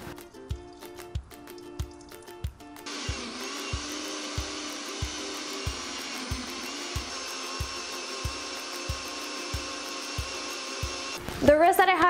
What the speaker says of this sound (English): So I like to do it with a bit of water, but only add as much as necessary so that your blender can work.